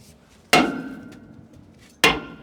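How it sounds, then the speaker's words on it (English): A sledgehammer strikes a heavy-duty Mack truck rear brake drum twice, about one and a half seconds apart, each blow a loud, sharp metallic clang that rings out and fades slowly. "So now we're gonna use our sledgehammer."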